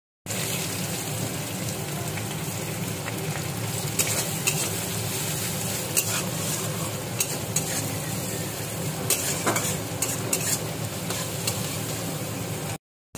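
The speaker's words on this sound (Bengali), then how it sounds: "পেঁয়াজটা এখানে ভাজা ভাজা হয়ে নিচ্ছে।" Onions fry in oil with nigella seeds, a steady close sizzle that runs for a while. Spoon clicks and stirring scrapes come through it now and then, and no voices are heard.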